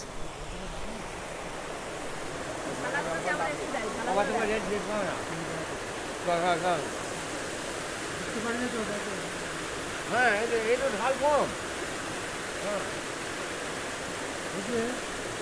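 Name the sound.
Rock Garden waterfall in Darjeeling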